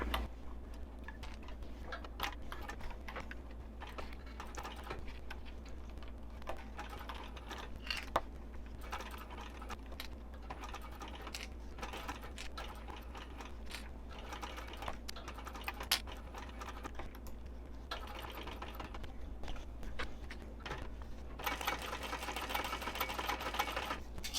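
Sewing machine stitching cork fabric on a double zip wristlet at a short stitch length, a rapid steady patter of needle strokes running nearly continuously with brief pauses, close and fairly quiet.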